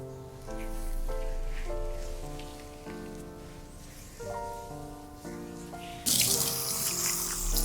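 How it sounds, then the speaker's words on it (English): Water spraying to rinse scrub off a dog's coat during grooming: a loud rush of water that starts near the end over background music. "And just gently rinse that off."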